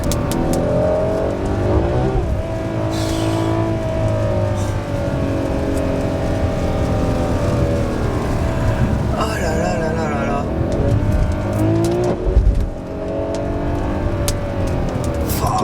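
Ferrari 12Cilindri V12 engine revving hard to high rpm, a loud continuous rising and falling wail with shifting harmonics, heard from inside the car with people talking over it.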